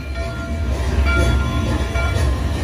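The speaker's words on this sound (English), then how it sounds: "here comes our train" A trackless ride vehicle on Mickey & Minnie's Runaway Railway at Disney's Hollywood Studios rumbles steadily with low, continuous wheel noise, close and fairly loud, with no voices over it.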